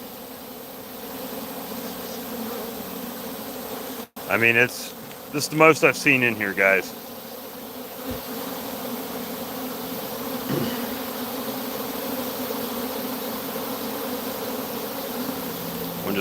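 A steady buzz of bees hums throughout, flying up through trees, with a few close passes swelling louder; a person talks briefly partway through.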